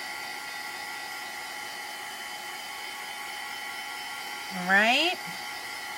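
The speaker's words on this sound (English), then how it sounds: "all I'm doing is using my heat tool for this" A heat tool blows hot air to dry chalk paste on a towel, a steady broadband whoosh running throughout at close range, with a brief voice speaking near the end.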